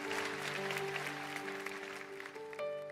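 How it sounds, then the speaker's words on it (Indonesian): Church congregation at a youth service clapping for God, a soft wash of applause beneath sustained keyboard or organ chords, fairly quiet and distant, with a new chord entering near the end. "yang percaya berikan tepuk tangan buat Tuhan"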